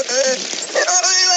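A beluga whale named Nock, kept at the National Marine Mammal Foundation in California, mimics human speech with a kazoo-like, warbling call. Wavering buzzy tones rise and fall in loud, continuous bursts.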